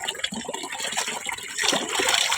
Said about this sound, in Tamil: துணி அலசிக்கணும்.